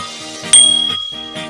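A single bright bell ding rings out and decays over music, a short chime-like notification tone.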